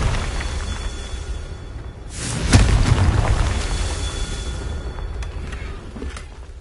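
A Confringo explosion spell in the Hogwarts video game bursts into a single booming blast that swells up and then fades slowly into a lingering rumble.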